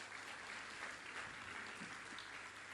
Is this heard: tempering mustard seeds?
no